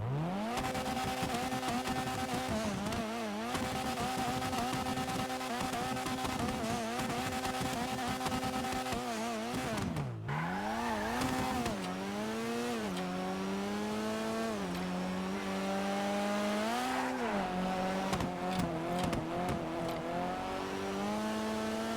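A Vapid GB200 in GTA Online revs hard, its engine climbing in long, loud pitch sweeps, cutting briefly near the middle, then winding back up through further rising and falling revs with no talk over it.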